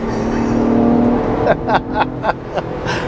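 A 2023 Ford Bronco Raptor, a 5,700-pound SUV, accelerates hard in fourth gear, its engine drone steady and close, with a few sharp bursts of noise later in the run.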